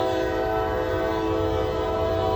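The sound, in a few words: Norfolk Southern freight train passing with horn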